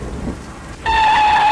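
A loud thunderstorm with heavy rain: a steady dense hiss of rain, with a rumbling swell partway through, sitting close and continuous with no talk.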